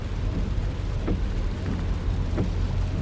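Steady rain hisses and drums around a low road rumble, like riding in a car through a downpour; no voices.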